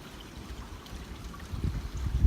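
A woodland creek flows softly nearby, a low, steady trickle of running water with a gentle rumble that swells slightly toward the end of the short stretch.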